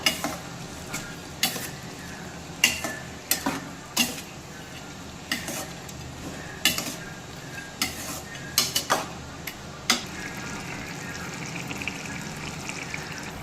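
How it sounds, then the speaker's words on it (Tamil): Pallipalayam chicken with Kashmiri chilli powder stirred in a pan, giving a run of sharp, close scrapes and clacks at an irregular rhythm over a low, steady sizzle, with no voices. "இதை நல்லா கிளறி விட்டுக்கலாம்"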